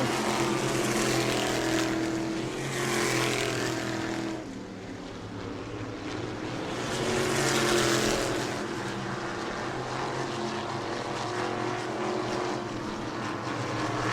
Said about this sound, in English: Here comes Tom Toronto in that 69 machine with 2 laps to go